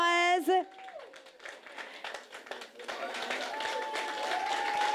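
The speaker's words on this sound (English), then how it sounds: "Round of applause." Applause from a small group after a cake is cut at a launch event for an agent banking facility, rising into steady clapping while voices talk over it.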